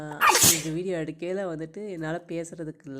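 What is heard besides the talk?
human sneeze from a person with a cold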